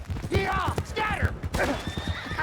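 A horse whinnies loudly in a shrill, wavering call in the video game Red Dead Redemption 2, with hoofbeats and shouting voices mixed in close by.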